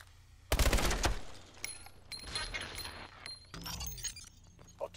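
Gunfire in the Call of Duty Advanced Warfare campaign, an indoor assault mission: a sudden loud burst of rapid shots with shattering glass, followed by scattered shots, debris and clatter.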